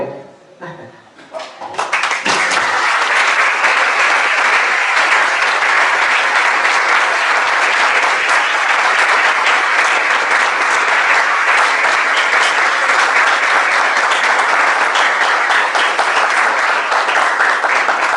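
An audience at a psychosocial and mental health seminar in Argentina breaks into applause after a brief moment of quiet, building into loud, sustained clapping from many hands that carries on steadily to the end.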